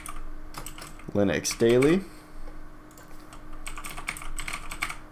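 Keyboard clicks as a username and password are typed during a Solus Linux 4.1 install, quick light taps scattered through the clip, with someone speaking briefly over them.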